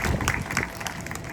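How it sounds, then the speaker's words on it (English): A crowd at the grand opening of the Phoenix Indian Center claps in brief, moderately loud applause, with a voice talking faintly underneath. "Can you please help me in giving the Phoenix Indian Center team a round of applause?"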